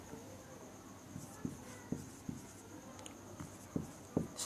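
Chalk or marker writes on a board during a lecture, making a run of soft taps and scratchy strokes at an uneven pace in a quiet room.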